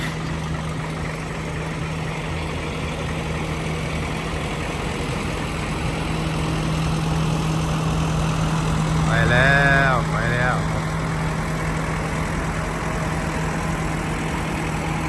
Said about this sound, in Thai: แวะมาแป๊บหนึ่งแล้วก็ไปไม่ดับเครื่องแล้วไม่ได้ดับเครื่องไปแล้วครับ